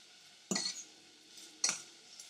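Cooked pieces for carbonara pasta are moved from the pan into a separate dish, giving two distinct metallic clinks of utensil against cookware about a second apart, close and clear with no talking.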